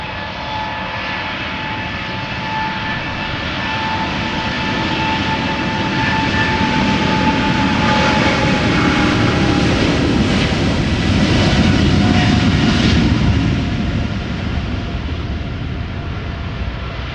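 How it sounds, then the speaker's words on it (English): A KLM Boeing 777-200ER jet at Amsterdam Schiphol Airport, a loud continuous engine roar that swells to a peak near the middle and then eases slightly, with a broad rushing whine. "This is KLM flight 677, Boeing 777-200 ER, going to Calgary, Canada."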